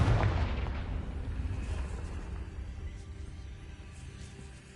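A Confringo explosive spell cast in Hogwarts Legacy lands as a deep, booming blast at the start, then its rumble slowly fades away over a few seconds.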